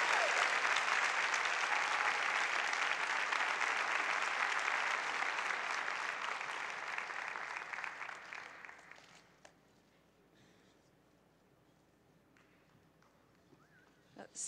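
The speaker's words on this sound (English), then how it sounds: "a big round of applause." Audience applause at a panel discussion event, a loud, dense round of clapping that holds steady for about eight seconds, then thins out and fades to near silence.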